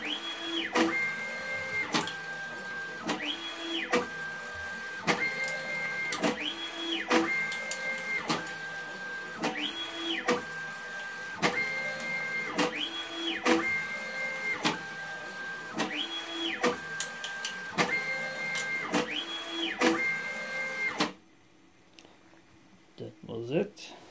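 Stepper-driven motion of a homemade pick-and-place machine running a test program to its corners, repeated whining tones rising and falling in regular moves, loud and close, stopping near the end.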